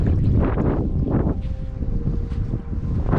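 Wind blows hard across the microphone at Bird Rocks beach in Mornington, a loud continuous rushing roar with gusty swells throughout and no talking.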